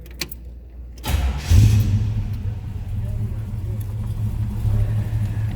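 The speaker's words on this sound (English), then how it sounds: "Let's go ahead and fire this up so you can hear it run" A 1956 Willys station wagon with a GM crate engine cranks briefly after a near-silent pause, catches, and settles into a steady low idle rumble, close and moderately loud, with brief talk near the start.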